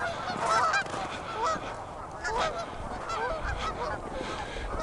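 A flock of geese honking along a river stretch during a winter bird count, repeated overlapping calls at moderate distance against a soft outdoor background.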